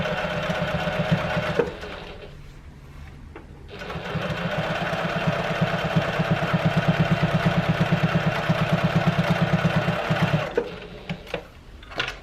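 A sewing machine top stitching a tote bag at an eighth of an inch, its motor humming steadily and close for most of the stretch, with a short pause early on and small clicks at the end.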